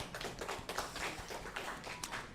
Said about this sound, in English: Let's give them a round of applause for AWS.